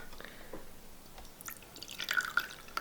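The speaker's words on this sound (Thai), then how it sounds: "คราวนี้เดี๋ยวเรามาลองใส่น้ำกันดู" Water poured into a glass that was cracked and mended with egg white, a close, soft trickling and dripping that grows busier with a few bright splashy plinks toward the end.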